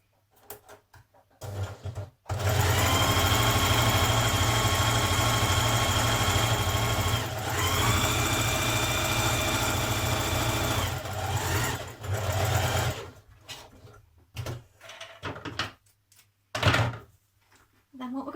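A sewing machine hums and chatters through a long steady run while stitching gathering rows on a Burda 6313 blouse, loud and close, then stops into sparse handling noises, with a person speaking at points.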